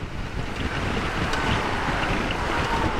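Strong, gusty wind on a dirt road buffets the microphone in a constant roaring rush, swelling and easing slightly without pause.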